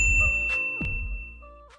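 A notification bell sound effect plays a bright metallic ding that rings out clearly after soft whooshing swells, followed by a fainter chime trailing off at the end.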